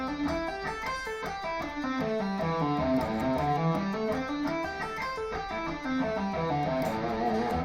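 An electric guitar plays fast, smooth legato runs up and down a pentatonic scale, one pick per string, notes flowing continuously at a steady loud level with no talking.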